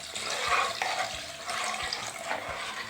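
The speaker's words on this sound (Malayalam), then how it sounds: "ഇനി നമുക്ക് നാളികേരപ്പാൽ ഒഴിച്ചു കൊടുക്കാം." Coconut milk is poured into a kolan fish curry made with bilimbi, giving a steady, close splash and gurgle of liquid that lasts a few seconds with no talking.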